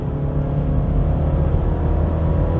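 Steady engine and road drone from a BMW 330e hybrid sedan on Michelin PS4 tyres climbing a winding Genting mountain road, continuous and fairly loud with no voices.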